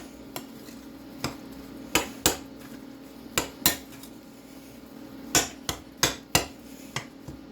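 A utensil mixing food in a metal pan for burger steak with mushroom gravy, giving a series of sharp, ringing clanks and scrapes at irregular spacing over a low steady hum, with no talk.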